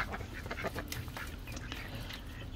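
Several pet ducks, including darker drakes, quacking in a busy, continuous flock chorus close by, with overlapping calls and no talking.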